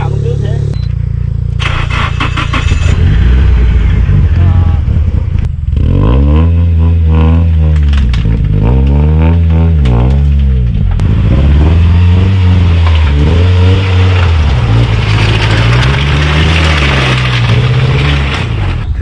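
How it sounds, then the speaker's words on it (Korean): 1992 Mazda RX-7 rotary engine idling while warming up after two years unstarted, a loud close rumbling idle with rising and falling revs, voices talking over it. "2년 만에 시동을 걸어도 예열은 해야 돼"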